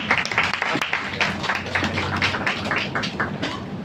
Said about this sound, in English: give a round of applause for Mr. Ko